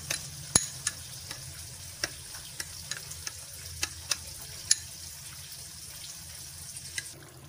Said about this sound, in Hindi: अब हम इसे अच्छे से मिक्स करेंगे।